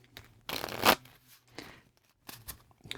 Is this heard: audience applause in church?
no